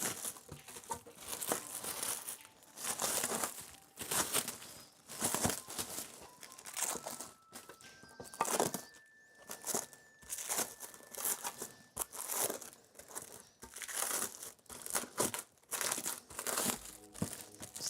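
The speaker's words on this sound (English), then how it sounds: "Except maybe removing the plastic foil from this" Thin plastic protective film being peeled and crinkled off the cover of a Creality K1C 3D printer, a steady run of close crackling and tearing rustles for most of the time, with brief pauses.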